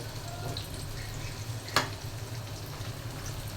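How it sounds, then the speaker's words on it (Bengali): Beguni, battered eggplant slices, deep frying in plenty of oil, a soft continuous sizzle with a low hum underneath and one sharp crackle partway through. "প্রথমে বেগুনিটা ভেজে নিচ্ছি, কারণ বেগুনিটা বেশি তেলে ভাজতে হয়"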